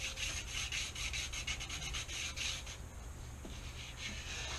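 Steady, rhythmic rasping of sandpaper rubbed back and forth on a 2003 Honda Shadow 750 motorcycle wheel before painting, close up and continuous, with no one talking.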